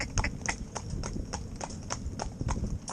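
Hooves of a Gypsy Cob horse being driven in harness clip-clop in a steady, even rhythm of sharp, close hoof strikes, continuing throughout with light background noise.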